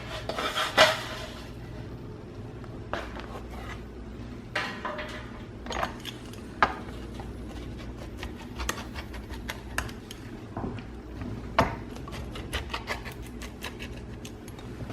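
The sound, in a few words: slicing herb flatbread pizza on a plate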